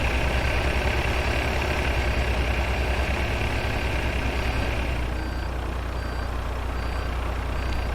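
A big truck idles and rumbles steadily while reversing a trailer into a parking spot in Euro Truck Simulator 2 with ProMods, as a reversing beep starts chirping at regular intervals about halfway through.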